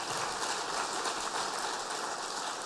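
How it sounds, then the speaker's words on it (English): A dense, even wash of clapping hands at a conference keynote, steady and moderately loud, like a room applauding without a break. "Give him a big round of applause as he walks past"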